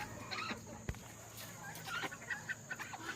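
Gamefowl chickens in a yard give scattered soft clucks and short calls at moderate distance over steady background hum, with a sharp knock near the start.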